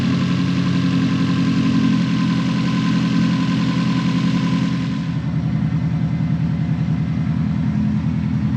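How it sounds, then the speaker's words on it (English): A car engine idles at a steady, even drone while its coolant system is burped during track-day preparation, running close and continuous with no talk over it. "Burping the coolant."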